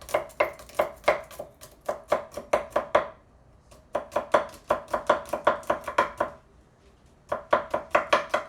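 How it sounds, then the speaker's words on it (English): A knife chops garlic on a cutting board in quick, sharp rhythmic bursts, three runs of rapid close-up strikes separated by short pauses, with no talking. "We'll chop up our garlic and add that."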